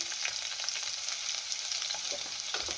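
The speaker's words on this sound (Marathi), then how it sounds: "लसूण चांगला मी 1 मिनिटभर परतून घेणार आहे।" Crushed garlic sizzles in hot oil with cumin seeds and asafoetida, a steady close-up frying hiss with small crackles throughout and no voices.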